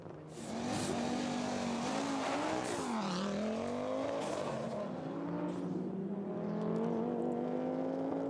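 Historic Audi Quattro rally car on a special stage at the 2022 FIA Motorsport Games, its engine roaring loudly and steadily with pitch dipping and climbing through gear changes and corners, faint tire noise underneath.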